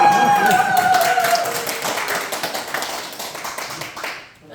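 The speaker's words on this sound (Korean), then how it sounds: "우리 박수 크게 한 번만 더 쳐요" An audience claps with a burst of taps that fades out over a few seconds, mixed with lingering music and room noise.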